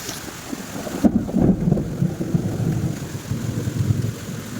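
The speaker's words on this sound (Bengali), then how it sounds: "কি প্রচণ্ড বৃষ্টি শুরু হয়েছে আর কি প্রচণ্ড মেঘ ডাকছিল" Heavy rain pours steadily with low rumbling thunder rolling through, a continuous dense wash of noise with swelling bursts in the low end.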